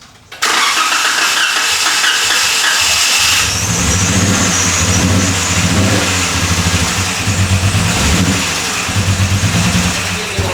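Jeep engine with a running fault cranks and catches, then idles roughly and revs in repeated pulsing bursts, loud and close, with no talk.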